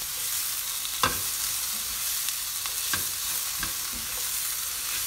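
Onion and carrot sizzle in a frying pan on a stove, a constant moderate hiss with a handful of sharp spatula scrapes and taps spaced a second or so apart.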